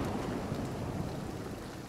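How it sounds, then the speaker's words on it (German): Steady rain hisses in a dense, even wash of noise in the video game Nightingale, with no talking. "Hier regnet es eindeutig rein."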